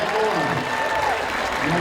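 Crowd applause for a tree felling world champion, a dense burst of clapping throughout with an announcer's voice over it.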